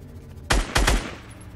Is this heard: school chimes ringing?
no